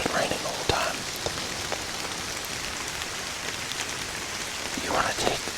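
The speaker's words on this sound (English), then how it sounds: "It's been raining the whole time." Steady rain patters on the leaves and ground of the woods around a treestand, a dense constant hiss with a few louder nearby drips and faint rustles. No voices.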